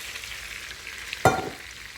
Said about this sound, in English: I'm frying my मलाई बोटी, my chicken bites